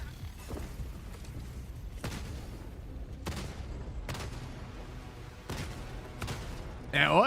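Autocannon fire in Helldivers 2: a slow cadence of heavy booming shots spaced about a second apart, mid-distance over a dense battle rumble, with a sharp burst at the end.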